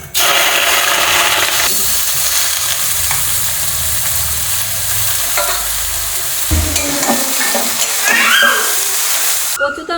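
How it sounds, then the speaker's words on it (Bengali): Water lily stems frying in hot oil in a wok, a close continuous sizzle with scraping stir strokes and some clanks, loud throughout, ending with a few brief sharper noises. "এদিকে আমার কড়াইয়ের তেল গরম হয়ে গেছে, এদিকে শাঁপাটা আমি ভেজে নেবো"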